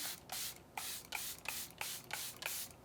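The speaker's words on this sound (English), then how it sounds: "let's go ahead and spray everything so it's nice and locked in" Quick hissing bursts of makeup setting spray, about seven in a steady rhythm, close and fairly soft with brief pauses between.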